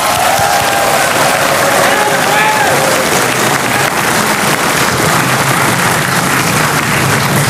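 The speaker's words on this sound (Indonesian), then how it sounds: "kita berikan tepuk tangan kalau itu." Sustained applause from a large audience at an Indonesian presidential debate, a dense steady wash of clapping filling the hall at a loud, even level throughout, with faint crowd murmur underneath.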